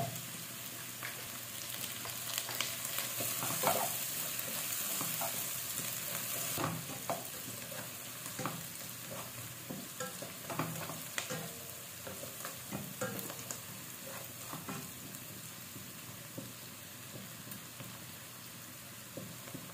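Butter sizzling and frying in a pan alongside aromatic ingredients, a steady crackle with irregular scraping stirs throughout, continuous and fairly close with no talking.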